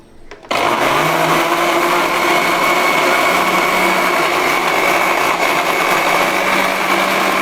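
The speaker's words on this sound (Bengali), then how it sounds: "এগুলো সব আমি একসাথে আগে প্রথমে ব্লেন্ডার করবো একটু" Kitchen blender whirring through sweet yogurt, banana, dates, sugar and melon for a banana milk lassi, starting abruptly after a brief moment and then holding a loud, steady motor drone to the end.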